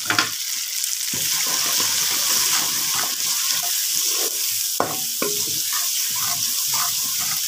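Masala and spices sizzle and fry steadily in a pan while preparing a potato and moringa pod curry, with intermittent stirring scrapes and clinks over a constant hiss, close and fairly loud.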